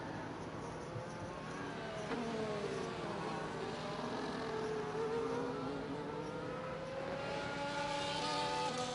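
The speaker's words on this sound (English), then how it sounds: "Meanwhile, Freeab Bile just got a little bit of a slipstream off of the Ferrari there. You see coming down the straightaway." Formula 1 cars in a racing video game run down a straight, one close behind another, giving a continuous faint engine whine with pitch sweeps that shift as they accelerate.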